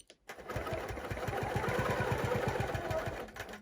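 A Qnique 19 quilting machine stitches in the ditch on a quilt frame, making a steady, rapid mechanical whir with an even pulsing rhythm. It sounds close and continuous and starts just after a brief quiet moment.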